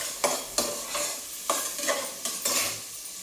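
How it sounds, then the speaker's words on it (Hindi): Onions frying in a pan, stirred with a spatula in a home kitchen: a steady sizzle broken by about six rhythmic scraping strokes, close-up and with no talking. "प्याज भूनते हुए"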